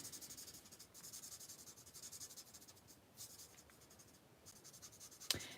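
Marker tip scratching steadily across paper to add light shading with the light end, a soft continuous close scratch with small pauses and a brief sharper stroke near the end.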